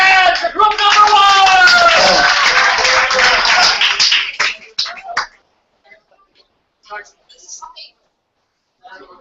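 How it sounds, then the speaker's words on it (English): Audience applause for a group at a TechCamp 2014 closing event in the Philippines: a dense, loud burst of clapping from a crowd lasting about four seconds, then cutting off into near-silence with a few faint scattered sounds. "All right, clap your hands for group number"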